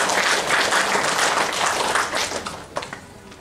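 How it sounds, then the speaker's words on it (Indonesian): Crowd applause at the opening of a regional Islamic organisation's assembly, dense clapping that holds steady and then thins out into scattered claps toward the end. "Tepuk tangan untuk beliau."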